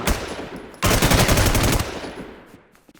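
Rapid bursts of automatic gunfire in the online survival shooter Infestation SEA, a dense loud volley in the middle that trails off into scattered fainter shots.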